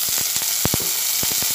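Onion, garlic and chopped tomato fry in a pan with a steady, close oil sizzle, broken by scattered sharp crackles and pops.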